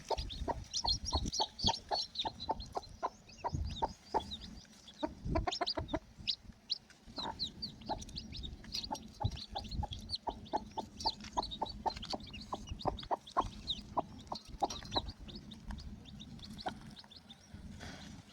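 A crowd of newly hatched chicken chicks peeping nonstop, high and shrill, with overlapping chirps close by and a few louder cheeps standing out.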